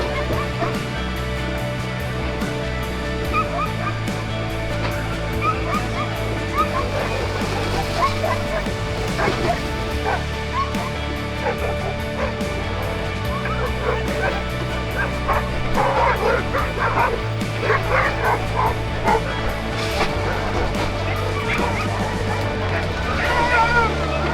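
Many sled dogs at a summer dog sled camp in Juneau bark, yip and whimper in a dense, continuous chorus, loud and close, with some people talking faintly in the background.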